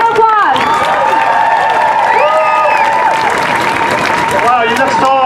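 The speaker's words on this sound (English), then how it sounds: "Let's give a round of applause." At an outdoor immigration protest in Justin Herman Plaza, a crowd claps in a loud, steady round of applause, mixed with cheers and raised voices throughout.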